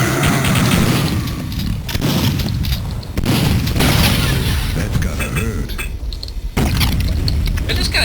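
Grenade launcher blasts in a Duke Nukem 64 mod for Duke Nukem 3D, Hollywood Holocaust level: loud, dense booming explosions follow one another almost continuously, with a couple of brief drops between bursts.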